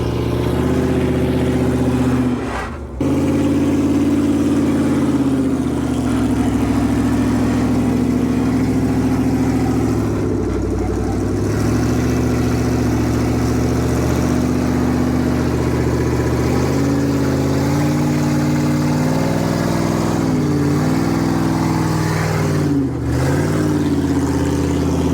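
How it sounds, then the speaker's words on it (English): A blue Jeep's engine idles and revs as it crawls over rocks on a trail at Wolf Caves, a loud, close, steady rumble that rises and falls in pitch over about twenty-five seconds, with brief dips between pushes. "Now Dylan is going to take the blue Jeep up"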